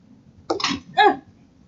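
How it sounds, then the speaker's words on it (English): A single short, sharp sneeze, close and fairly loud, in two quick bursts against a quiet background. "At least I think that was a sneeze"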